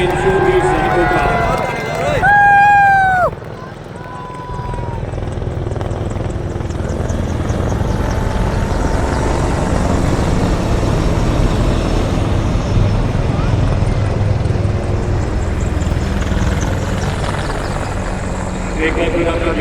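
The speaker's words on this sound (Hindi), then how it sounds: "समुद्र से लेकर दुनिया के सबसे ऊंचे क्षेत्र सियाचिन तक हर मिशन का हिस्सा बन रहे ध्रुव एवं रुद्रा हेलीकॉप्टर" Dhruv and Rudra army helicopters flying over at a military display in Jaipur, a loud, continuous rotor roar behind a crowd and an announcer's amplified voice, with a brief whistle-like tone early on.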